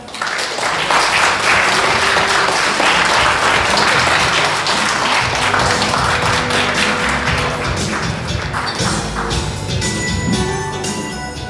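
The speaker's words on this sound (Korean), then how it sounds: "큰 박수로 맞이주시면 감사하겠습니다" Dense, loud audience applause at the opening of an art museum, welcoming an artist duo forward. Close, continuous clapping holds for around eleven seconds and thins slightly toward the end.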